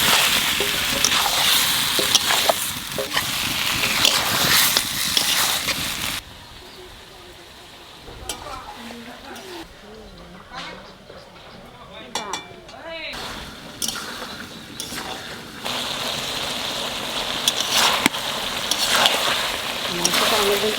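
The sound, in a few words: desi chicken meat frying in a pan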